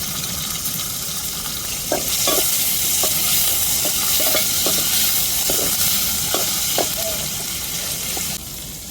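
Curry leaves sizzle in hot oil for a mutton curry, a steady broadband hiss with a series of short scraping stir strokes over it, close and fairly loud, stopping abruptly near the end.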